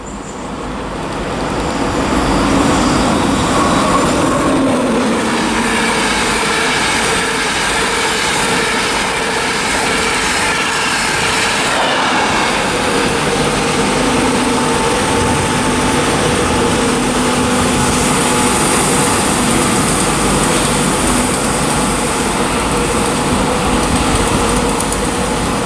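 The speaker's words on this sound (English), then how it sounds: "there goes the LNER service for King's Cross from Newcastle" An LNER service bound for King's Cross from Newcastle passes through Durham on the East Coast Main Line, a loud, steady roar of wheels and carriages swelling in and holding close for over twenty seconds, with no talking.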